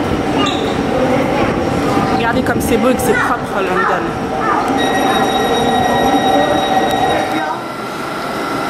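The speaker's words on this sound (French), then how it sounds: "Maintenant on va aller prendre le métro" A London Underground metro train rumbles loudly nearby, with a sustained high wheel squeal partway through, while people talk over the noise.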